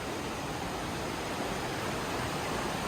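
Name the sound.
rushing water inside a cave in Switzerland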